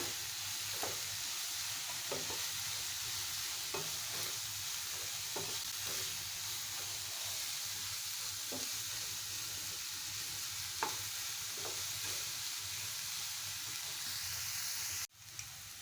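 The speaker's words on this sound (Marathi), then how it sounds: "कांदा व्यवस्थित लालसर होईपर्यंत परतून घ्यायचा" Onion stir-frying in a pan until reddish for brinjal bharit, a continuous close sizzle with scattered spatula taps and scrapes recurring every second or two, ending in a short abrupt break.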